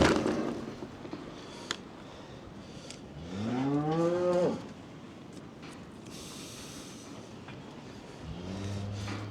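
Cattle moo on a farm where cows and heifers are being handled; one loud, drawn-out moo rises and falls in the middle, with a shorter, lower moo near the end over faint background noise.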